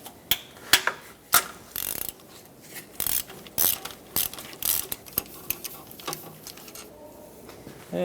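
Close ratchet clicks loosening a 13 mm bolt on the oil pickup tube of a 2008–2012 Jeep Liberty 4x4, heard as quick rhythmic ratcheting strokes with brief pauses and no voices.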